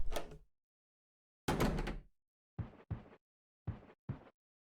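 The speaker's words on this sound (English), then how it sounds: "the sound of the door was really loud" Door sounds in the retro horror game Mailbound: two loud, rough scraping bursts followed by pairs of shorter clunks, alone against silence.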